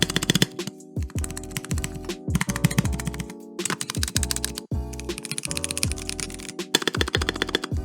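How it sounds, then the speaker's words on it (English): Rapid clacky typing on a mechanical keyboard, dense keystrokes with deep thocky bottom-outs and brief pauses between bursts, close and fairly loud. "mechanical keyboards are a big thing for me"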